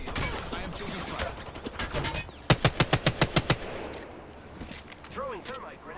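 Rapid automatic gunfire in a shooter video game fires as a burst of about eight evenly spaced, loud cracks, with the player talking before it and more game effects following.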